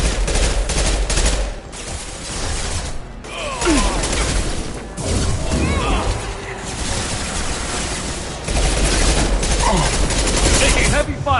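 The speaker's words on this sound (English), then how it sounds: "Taking heavy fire." Heavy gunfire in the Mass Effect 2 video game, with dense bursts of automatic weapons fire and sharp impacts. Loud and continuous, it shows brief lulls and scattered mechanical clanks in between.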